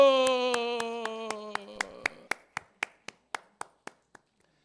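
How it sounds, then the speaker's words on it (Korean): Members of a church congregation, many of them elderly, clap during a Sunday morning worship service in Korea. Voices speak together at first, then about a dozen sharp, evenly spaced claps follow in a steady rhythm, close by, and slowly fade out. "박수!"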